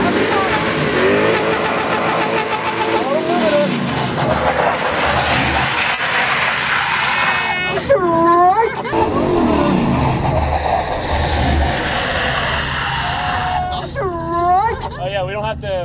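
A car engine runs and revs up and down close by, its pitch rising and falling, while people talk over it.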